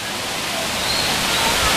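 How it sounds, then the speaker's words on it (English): A waterfall at a water park pours with a loud, steady rush of water that stays constant from start to finish. "So this waterfall, it goes down here, goes over here"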